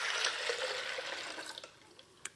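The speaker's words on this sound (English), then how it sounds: "So I've got measured 3 cups of filtered water, and I'm just gonna add that right in there." Three cups of filtered water poured into a container for sprouted lentil milk, a close, steady splashing pour that thins and trails off into a few final drips.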